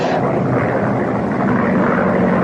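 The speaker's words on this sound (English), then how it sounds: "His tiny single-engine plane is being buffeted without mercy by a ferocious thunderstorm." Small single-engine plane in a ferocious thunderstorm as a radio drama effect, a loud continuous roaring drone of engine and wind holding steady throughout.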